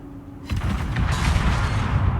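Gunfire booms out in a naval video game, with one sharp blast followed by a sustained rumbling barrage of cannon-like fire, loud and continuous with no talking.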